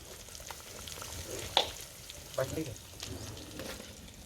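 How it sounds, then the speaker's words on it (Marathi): Soft, steady sizzle of tilapia fish frying in a small kadai, fairly quiet, with a few small clicks and spatters over the hiss. "पहिला मासा फ्राय होतो आहे आपला"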